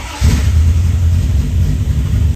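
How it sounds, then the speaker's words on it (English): A car engine cranks and catches after a brief moment, then settles into a loud, steady, close-up rumbling run with no talk. "So let's start the engine."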